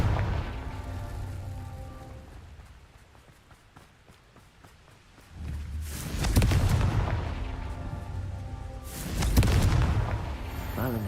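Confringo blasting spells from a Harry Potter video game: two heavy booming explosions a few seconds apart, each a loud crackling burst that rumbles and decays, following a quieter stretch of magical humming and rumble.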